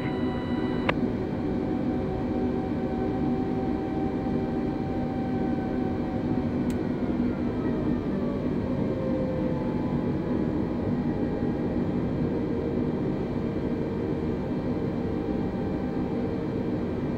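Olympic Airlines Airbus A320 taxiing to the gate in Microsoft Flight Simulator 2020, a steady broadband engine rumble and hiss with faint shifting whine tones, continuous and unchanging throughout.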